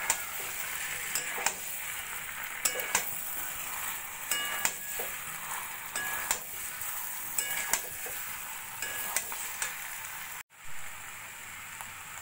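Boiled potatoes sautéed with spice masala in a pan for a Bengali new-potato curry give a steady sizzle broken by repeated spoon scrapes and stirring clatters, close and alone, with a brief silence near the end.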